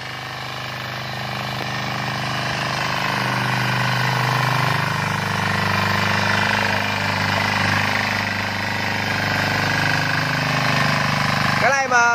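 A Trâu Vàng diesel tiller runs steadily while milling soil, its engine giving a loud, continuous chugging drone close by for the whole stretch, with a brief clatter near the end.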